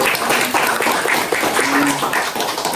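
An audience at a village development forum's T-shirt handout for anganwadi schoolchildren claps together, a loud, dense, steady wash of applause that carries through without a break.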